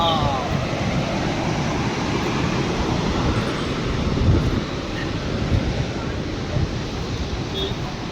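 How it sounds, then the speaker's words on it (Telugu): Water pours through the open gates of the Srisailam dam, a dense, roaring rush heard steadily with wind buffeting the microphone and faint voices underneath. "చూడండి, నీళ్ళు పడుతున్నాయి. మొత్తం గేట్లు ఓపెన్ చేస్తారు."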